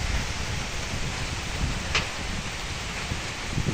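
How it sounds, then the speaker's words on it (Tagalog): Steady rain falls over a rice seedling nursery on a farm, a dense, even hiss with no pauses, continuous throughout with no voices. "Umuulan."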